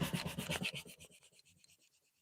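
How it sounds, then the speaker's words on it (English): Sandpaper is rubbed clean to clear off built-up material, a quick run of rhythmic scratchy rasping strokes, close and fairly faint, fading out over about two seconds. "Keep cleaning out the sandpaper so you can get back to the grit."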